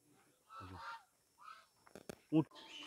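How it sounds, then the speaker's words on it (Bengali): Geese kept at a pond-side garden house in Murshidabad, West Bengal, give a few short honks, the loudest near the end, separated by quiet gaps with faint background noise. "এই রাজহাঁসগুলো এখানেই থাকে"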